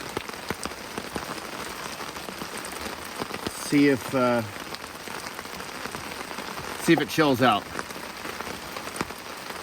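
Heavy rain drums steadily on a camping tarp in the mountains of the Pacific Northwest, a dense continuous patter close overhead, with someone speaking briefly in two short bursts over it.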